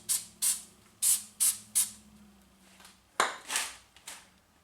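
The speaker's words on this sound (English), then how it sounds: "A little spray in there can't hurt." Several short bursts from a spray can hiss into the wheel bearing housing of a 2008 to 2012 Malibu, five quick sprays in a row, then a pause and a few more close-up spurts.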